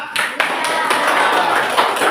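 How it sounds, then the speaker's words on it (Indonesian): A school class applauds a pupil's answer during a lesson, a brief burst of steady, close clapping from many hands. "Tepuk tangan berat."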